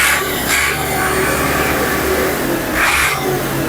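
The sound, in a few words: ATS 290 tractor engine started and running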